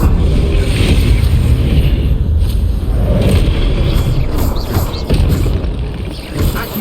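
Fiery spell blast from the Incendio fire spell in the video game Hogwarts Legacy on PS4, a loud, sustained roaring burst with rumbling low end and crackling bursts, dense and continuous for several seconds with no voices.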